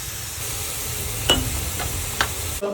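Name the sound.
stirring zucchini sauce and pasta in a pan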